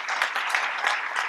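Applause for a city council at a Surfing Walk of Fame induction ceremony, a steady wash of many hands clapping at moderate distance throughout.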